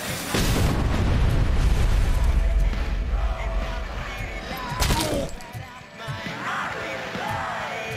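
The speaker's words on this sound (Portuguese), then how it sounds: "Inimigo com lançador de granada." Grenade launcher explosions in the video game Robocop: Rogue City: a loud, rumbling blast that rolls on for several seconds, then a second sharper burst with debris, with someone talking over the chaos.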